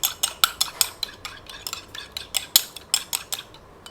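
An egg is worked into chapli kabab mince with quick, rhythmic wet slaps and squelches, about a dozen sharp strokes in close succession, nearby and fairly loud.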